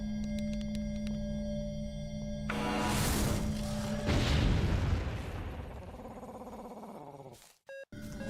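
NRF bombing explosions while mining in Entropia Universe, two loud booming blasts in succession over steady synthetic tones, ending with short chirp beeps.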